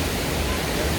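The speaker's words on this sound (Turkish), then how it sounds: "Bugün ise Düden Şelalesi." Rushing water at Düden Waterfall in Antalya, a steady, loud broadband roar of falling water that fills the whole brief moment without a break.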